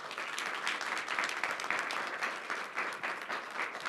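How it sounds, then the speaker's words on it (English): Warm applause from an audience at a digital technologies education event welcoming speakers to the stage, even and moderately distant, with no voices over it. "We give them a warm round of applause to welcome them to the stage"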